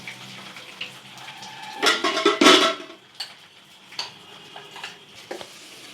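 Washed, drained rice tipped into a pan with cashews and raisins for coconut milk pulao and stirred, a loud rushing scrape in the middle followed by scattered lighter stirring clinks and a low sizzle, close by.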